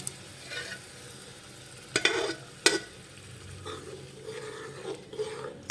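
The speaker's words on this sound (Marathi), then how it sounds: "आता आपण या मॅश केलेल्या भाज्या टाकून घेऊया" Mashed vegetables are stirred into oily frying masala for Mumbai street-style pav bhaji, giving soft close sizzling and rasping stirs, with a couple of sharp spatula knocks on the pan.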